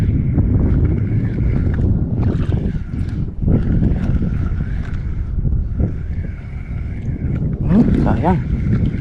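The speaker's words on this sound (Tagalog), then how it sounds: "lakas ang hangin." Strong wind buffets the microphone on a fishing boat at sea off Matintinen island, roaring steadily for several seconds while a motor drones beneath and a voice talks at times.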